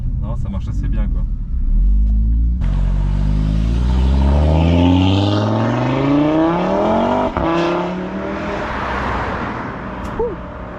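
A tuned Audi RS3 Stage 2 making around 500 hp revs hard, its engine note climbing steadily in loud, continuous acceleration before easing off, with people talking nearby.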